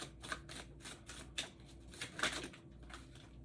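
Tarot confirmation cards being shuffled by hand, a quiet close series of soft riffling flicks and taps in irregular bursts, with no talking.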